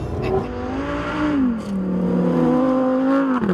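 The engine of a Lamborghini Huracán Sterrato drifting in California, a loud, continuous revving whine that sweeps up and down in pitch as the throttle changes, close and steady throughout.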